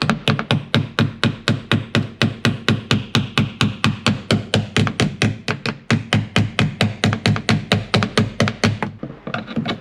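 A small hammer strikes an Allen wrench held against a roll pin in a car door, over and over, to drive the pin out. The sharp, close metallic taps come in a steady, rapid rhythm of about four per second for the whole stretch.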